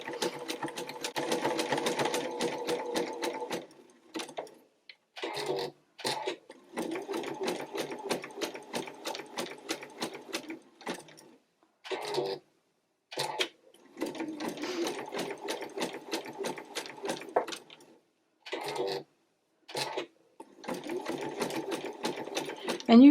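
A sewing machine zigzag stitching a fabric mug rug runs in steady, rapid mechanical bursts, with the needle's rhythmic clatter stopping briefly several times between stretches of stitching.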